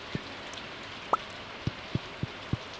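Rain falling outdoors, heard as sparse, distinct drips landing on a surface at an irregular but steady pace over a faint background hiss.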